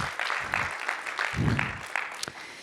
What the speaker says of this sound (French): il faut applaudir aussi du coup